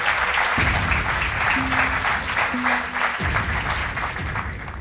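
Studio audience applause on a Portuguese television quiz show, steady dense clapping that fills the whole stretch, loud and close, with a brief low tone sounding underneath.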